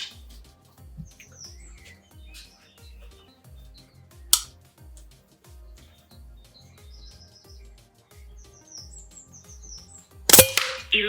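An FX Wildcat mk3 air rifle fires .22 pellets outdoors, giving one sharp, clean crack midway and another louder burst near the end, with birds chirping faintly in the background.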